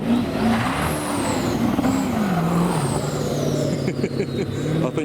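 A road-legal Aston Martin Bulldog engine revs, its pitch climbing and falling across several rises, loud and close, with a high whine and voices faintly underneath.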